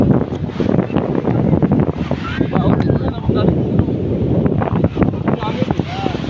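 Strong wind buffets the microphone in a steady roar, with water and faint voices mixed underneath.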